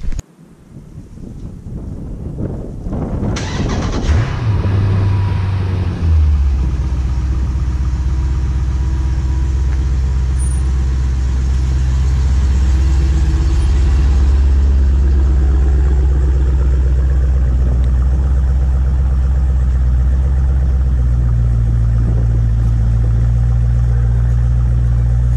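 A Jeep SRT engine cranks and catches, then settles into a loud, deep, steady rumble that holds through the rest of the clip, close by, with some wind buffeting the microphone.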